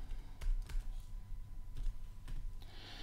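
A computer keyboard being typed on while entering a numeric value in CAM software for a CNC table program, a few separate key clicks close to the microphone against low room hum.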